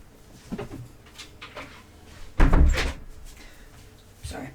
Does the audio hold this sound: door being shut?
yes